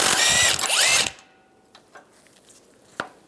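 A power driver with a 21mm socket spins off the top strut nut on a 1998-2010 Volkswagen Beetle, a loud whirring burst of about a second with a rising pitch, then stops, leaving faint clicks and handling noises.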